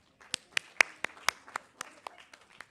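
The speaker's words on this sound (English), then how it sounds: "give him a big round of applause." A small group at a hospital ICU training event claps sparsely, with about a dozen separate, uneven hand claps spread over a few seconds, fairly close and quiet, rather than a full burst of applause.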